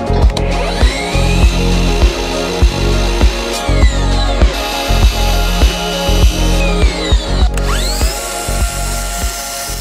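A power saw cuts metal shower niche trim pieces, a loud steady motor whine broken by a series of repeated cuts with brief pauses between passes, up close with no talking.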